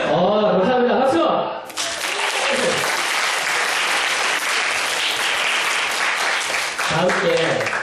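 A voice is heard speaking, then a burst of loud audience applause from a training session crowd breaks out and continues steadily, with speech returning near the end.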